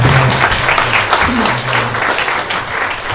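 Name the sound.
church congregation applause of encouragement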